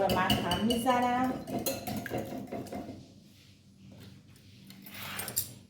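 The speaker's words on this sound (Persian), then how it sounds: "تخم مرغ رو من هم میزنم." Metal clinks and scrapes rapidly against a bowl as five eggs are whisked, with a voice speaking over the first half.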